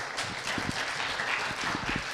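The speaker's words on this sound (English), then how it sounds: "So everyone please give Anton a really warm applause." Audience applause welcoming a presenter onto the stage at a university design review event, a short burst of scattered clapping that stays moderate and steady throughout.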